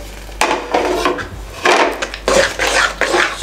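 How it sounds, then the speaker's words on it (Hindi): Custard stirred together with grated apple and boiled vermicelli in a serving bowl, a utensil scraping and clinking against the dish in several bursts of mixing, close and fairly loud, no talking. "और अच्छे तरीके से इसको मिक्स कर दें"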